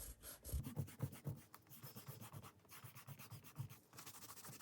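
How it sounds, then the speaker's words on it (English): An eraser rubs back and forth over pencil lines on paper beneath finished pen doodles, a soft, close scrubbing rasp in quick repeated strokes, alone and fairly faint. "I then just rub out the pencil lines that you can see underneath."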